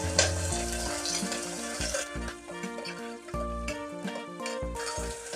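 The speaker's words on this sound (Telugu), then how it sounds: "కొత్తిమీర కరివేపాకు వేసుకుందాము ఆయిల్లో." Onion pieces, coriander and curry leaves fry in hot oil for a beans and potato curry, a bright continuous sizzle layered under tonal background music.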